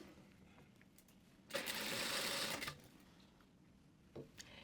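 A sewing machine runs a short backstitch along a dress seam, a brief rapid burst of stitching lasting about a second, bracketed by quiet handling clicks of fabric and machine.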